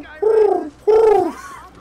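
Two drawn-out pigeon cooing calls in quick succession in the video game Marvel's Spider-Man, close and fairly loud.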